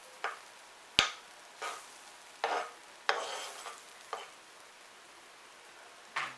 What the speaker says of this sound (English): Get that nice and hot and melt it